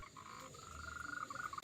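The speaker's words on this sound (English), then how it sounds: "These yellow frogs are the Ota's stream tree frog, and they are endemic to the island of Taiwan." An Ota's stream tree frog croaks by a small pond in Taiwan, giving a steady run of rapid, pulsing calls that grow slightly brisker toward the end, fairly close against a faint outdoor background.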